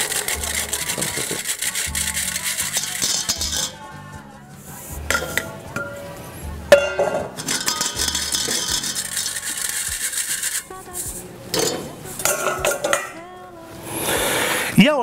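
Flour being mixed by hand in a bowl for bread dough, with scraping, knocking and clinking of utensils against the bowl in irregular bursts, close and fairly loud, with brief pauses.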